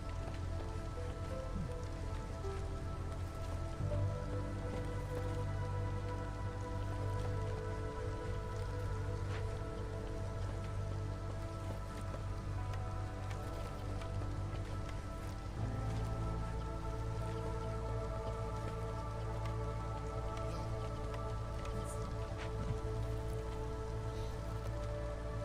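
Steady rain falls in the video game Against the Storm, a continuous soft patter over a low ambient hum, unchanging for the whole stretch with no talk.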